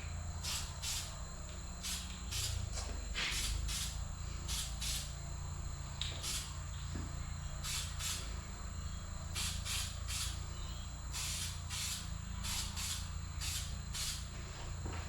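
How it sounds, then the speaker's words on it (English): Spray gun misting paint in short repeated bursts onto bodywork of an XA Falcon GT fender or XK Falcon doors in a workshop, a steady hiss pulsing on and off over a constant background hum. "that's finally mixed up enough that it's going to spray"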